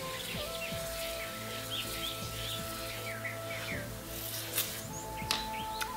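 Birds sing outdoors in nature, several chirps and whistled phrases scattered over a constant faint background, with a few brief louder notes near the end.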